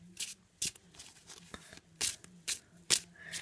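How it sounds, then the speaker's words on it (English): Yu-Gi-Oh cards being shuffled by hand: a series of short, crisp riffling and sliding bursts at an uneven pace, close and fairly quiet, with no voices. "Just gonna shuffle."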